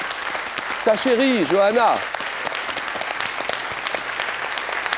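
A studio audience applauds a finalist on a French quiz show final, with steady applause filling the whole stretch under a presenter's voice.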